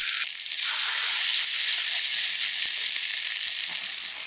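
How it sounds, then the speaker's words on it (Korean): An oyster and green laver pancake sizzles in hot oil in a frying pan over medium-low heat, a steady close bright hiss and crackle with no voices. "지글지글 앞뒤로 노릇노릇하게 맛있게 지져내고"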